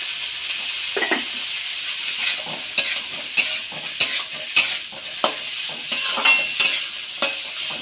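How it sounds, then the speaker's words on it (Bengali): Boiled vegetables, including peas, are stirred and lightly fried in a pan for fried rice. A spatula scrapes in steady strokes about once a second over a soft, continuous sizzle, close and clear, with no one talking. "শুধু যেহেতু বয়েল করে রেখেছি সবজিটা, তো বয়েলের যে একটু এক্সট্রা জলটা থাকে সেটা একটু নাড়ি চাড়িয়ে আমাকে নিলেই হবে"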